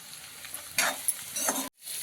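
Sliced capsicum hits a pan of green chilli and half-cooked onion for paneer bhurji, a close sizzle that flares as the pieces go in, with stirring scrapes, then a brief cut and the frying resumes.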